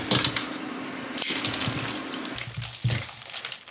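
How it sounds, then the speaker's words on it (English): Tap water runs and splashes into a bowl for an ice bath with bratwurst in it, a steady gushing pour with a few clunks and knocks. "So I'll get a little bit more water in here just to cover these up"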